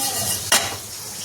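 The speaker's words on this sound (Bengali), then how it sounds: "দিয়ে দিচ্ছি মৌরি, দিয়ে এগুলো ড্রাই রোস্ট করে নেব।" Whole spices (cumin, coriander, garam masala, fennel) dry roasting in a pan give a soft, steady hiss with one quick stirring scrape in the middle.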